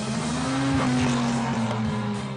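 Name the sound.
supercar driving through the streets of Monaco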